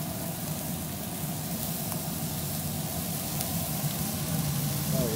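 Chopped red onion sizzling as it is tossed in to cook alongside poblano and jalapeno peppers for a boudin and venison chili, a steady, dense, even hiss of frying that holds throughout with no voices.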